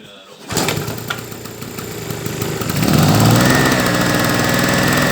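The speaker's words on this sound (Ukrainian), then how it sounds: "І давайте спробуємо завести його" A petrol generator being started: a brief pull, then the engine catches at about half a second and runs steadily, growing louder and rougher near three seconds, close and loud throughout.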